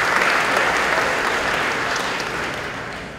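An audience at a San Diego Union-Tribune talks forum on fake news claps steadily in a dense, even wash of applause that gradually tapers off.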